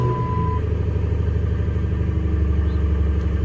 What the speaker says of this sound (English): See how it's high idling and it's coming down slow, real slow.